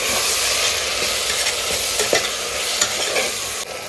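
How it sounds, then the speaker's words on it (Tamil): Onions and tomatoes sautéing for chicken biryani, loud continuous sizzling with a spatula scraping and stirring through the pan, close up and without voices. "ஸோ வெங்காயம் தக்காளிலாம் பாருங்கள் நல்லா வதங்கிடுச்சு"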